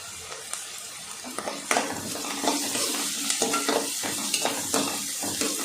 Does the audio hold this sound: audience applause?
no